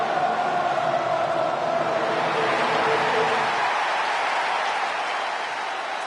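Arena crowd noise from the WWE 2K25 wrestling video game, a steady broad roar and applause wash filling the whole stretch at an even level, thinning slightly toward the end, with no clear voices.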